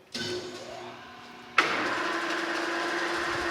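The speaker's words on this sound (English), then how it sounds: "So let's fire up the lathe" A metal lathe switching on with scrap metal stock chucked for making collars: a short motor whir, a brief quieter pause, then a sudden jump to a steady, loud running hum with whine, close and without talk.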